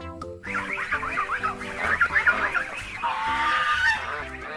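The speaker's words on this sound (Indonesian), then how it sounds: "ini ada angsa putih" A white goose honking loudly in a rapid series of nasal calls, repeated honks running over several seconds, set among toy-style animal sounds.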